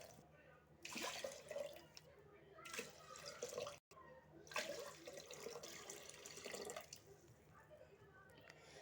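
Water pours into a pot of washed rice for sambar rice, a soft, quiet splashing in a few uneven bursts with brief pauses between them.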